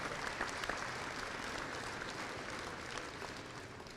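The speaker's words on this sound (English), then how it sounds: "Please give them a warm round of applause" Audience applauding at a North Dakota all-star girls basketball game in a gym, dense even clapping from a large crowd, steady and fairly distant, slowly fading toward the end.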